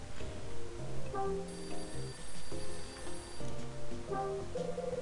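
A telephone rings in repeated electronic trills in the video game Hotel Dusk: Room 215, over a dense, droning background with soft musical tones.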